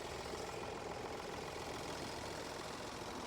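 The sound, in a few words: diesel engine idling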